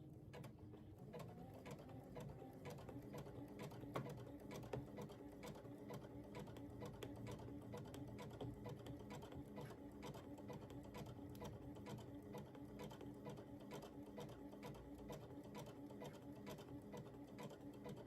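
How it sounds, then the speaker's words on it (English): Sewing machine stitching a couple of back stitches, a steady fast mechanical whir and ratcheting clatter running continuously, quiet and even throughout. "And I'll just give a couple little back stitches there at the end."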